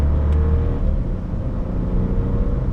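The 1.0-litre 85TSI three-cylinder engine of a 2023 VW Polo runs with a steady, close-up rumbling drone at an even level throughout.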